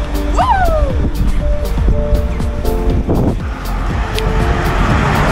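Cars pass on a road in Berry, in the Southern Highlands of New South Wales, with loud engine swells and tyre noise coming close, one after another, over a continuous traffic roar.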